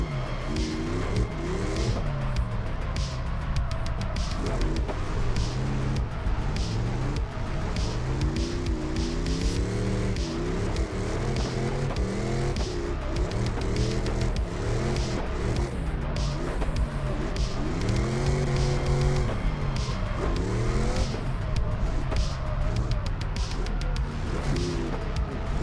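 A drift car is clutch-kicked as its tires spin and squeal, the engine roaring and rising and falling in pitch, loud and continuous without a break, with no voices.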